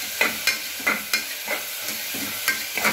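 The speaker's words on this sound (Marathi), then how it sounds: "या ठिकाणी हा कांदा तेलामध्ये आपल्याला परतून घ्यायचा आहे चांगल्या प्रकारे." Chopped onion sizzling in hot oil in a pan during a village-style goat mutton curry, with a spoon scraping and stirring in repeated strokes about every third of a second over a constant fry hiss.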